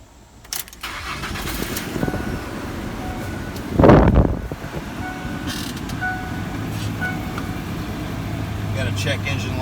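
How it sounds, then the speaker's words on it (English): A Ford F-150 with a 4.2 liter V6 and a blown ignition feed fuse is cranked once: a click, then a brief loud burst of starter and engine noise around mid-clip, followed by a steady low hum and chimes. "Let's go ahead and try to start this up,"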